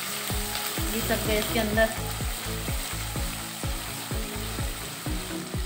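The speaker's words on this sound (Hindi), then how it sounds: "और ये प्याज हमारी थोड़ी थोड़ी सी भूनने लगी है" Onion and green chili fry in a hot pan for upma with a loud, continuous sizzle and a steady series of pulsing crackles underneath. A voice speaks briefly.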